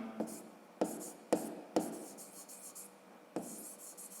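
Pen writing by hand on paper while a math exercise is worked, with a few short scratchy bursts of strokes separated by quiet pauses, close and faint.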